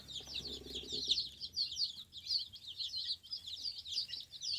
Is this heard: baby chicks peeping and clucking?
yes